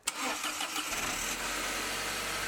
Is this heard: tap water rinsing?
no